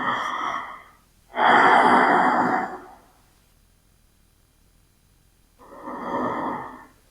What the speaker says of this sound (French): Bras le long du corps pour 5 profondes respirations.